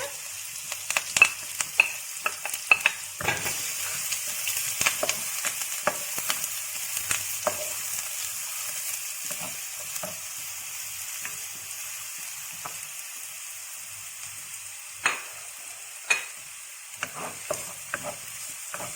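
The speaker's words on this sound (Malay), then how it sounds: "minyak dah panas, kita akan masukkan semua bahan-bahan yang kita telah potong dan cincang tadi ya" Chopped ingredients sizzle steadily in hot oil for a serunding ikan yu (shark floss) dish, with repeated sharp scrapes and clacks of stirring cutting through the constant frying hiss, close and alone.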